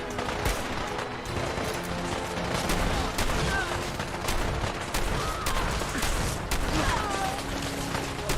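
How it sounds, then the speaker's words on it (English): Cryo grenades and combat in Fallout 4 with Sim Settlements 2: dense bursts of gunfire and blasts crackle continuously, loud and close, with a voice talking intermittently over the fight. "Somebody used a cryo grenade there."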